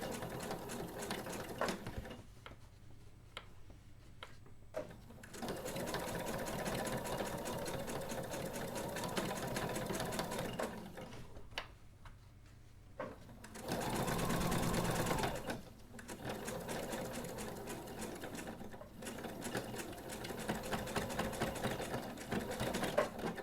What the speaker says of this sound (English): And baste stitch.